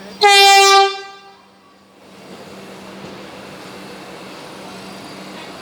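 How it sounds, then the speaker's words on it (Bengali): A Vande Bharat Express train sounds one loud, harmonic horn blast lasting under a second as it arrives at Puri station, then a steady low rumble of the train continues alone. "দেখুন বন্দে ভারত ট্রেন পুরী এসছে"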